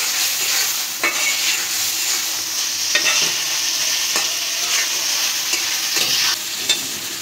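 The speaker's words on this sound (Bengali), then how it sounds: "সবজিটা তেলের উপর আবার একটু কষাই নিব মশলার উপরে।" Mixed vegetables fry in hot oil over a cooked-down spice masala for a Bangladeshi restaurant-style rupchanda fish curry, with a steady close sizzle and occasional stirring scrapes throughout, no voices.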